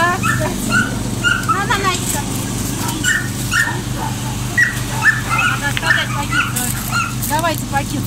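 Dogs whimper and yip repeatedly in short high-pitched bursts, close by and fairly loud, while a person talks among them.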